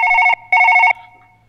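Telephone ringing in the surgery game Surgeon Simulator 2013: two loud, bright electronic ring bursts separated by a short gap, followed by a fading tail, with no talking.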